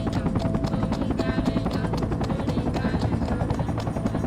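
Helicopter flying in the video game Project Reality, a continuous close rotor thump with rapid regular blade chop and engine whine, loud and steady throughout.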